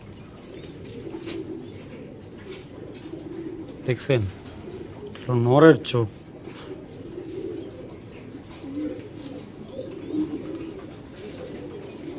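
Racer pigeons coo softly in a loft on a bad-weather day, two short throaty coos standing out over low background murmuring while someone talks close by.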